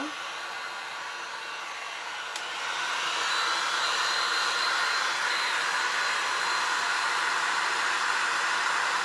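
A hair dryer drying paint on an art journal blows with a steady airy whoosh, growing louder after a couple of seconds and holding at a constant hum, with no voices.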